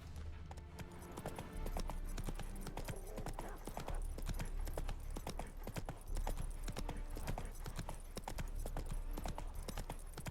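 Roach the horse gallops in The Witcher 3, with steady, loud, rhythmic hoofbeats pounding throughout, close and continuous.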